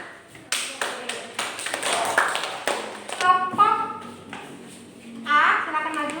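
Pupils in a classroom clap for a student group, a burst of scattered, uneven hand claps that thins out, with children's voices chattering over and after it.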